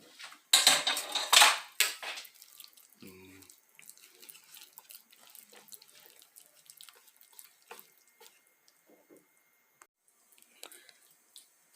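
Water runs from a tap into flour for sushi dough, a loud splashing pour for about a second and a half, then quieter clinks, drips and stirring noises follow.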